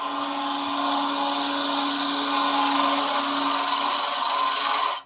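A scraper hollows out a wooden pencil pot spinning on a lathe, a steady loud whining, hissing cut with a constant low tone that holds for about five seconds and then stops abruptly, with no talk.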